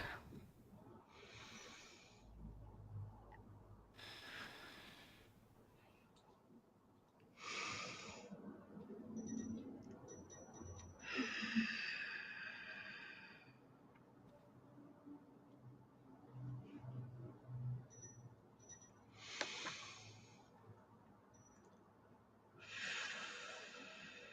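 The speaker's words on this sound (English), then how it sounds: "Let's take 3 deep breaths." A guided group session opens with three slow, deep breaths, each a soft, airy inhale and exhale. The breaths come separately in a quiet room at moderate distance, with faint murmuring between them.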